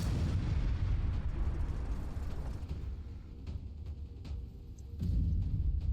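Buildings blowing up in the Roblox strategy game Mini Empires: a dense, sustained rumble of explosions and deep booms, loud and continuous, with a fresh burst near the end and no talking.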